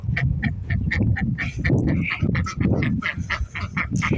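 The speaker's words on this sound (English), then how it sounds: "I just love listening to them quack to each other" Several ducks quack back and forth in quick, overlapping bursts, close and loud, a busy chattering rhythm with no pause.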